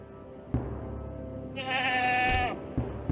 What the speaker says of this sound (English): A goat.